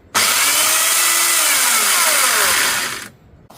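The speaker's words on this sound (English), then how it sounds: "Telescopic pole saw. Now, the only drawback is it's electric, but it certainly does the job." An electric telescopic pole saw cuts through a self-seeded willow, a loud, steady buzzing whine that runs for about three seconds as the blade bites into the wood, then stops abruptly.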